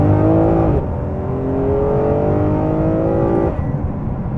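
Ferrari 599 GTO V12 engine pulling hard under acceleration, a loud, close, steady roar with rising harmonics that shifts pitch once near the start and again near the end, with no talking.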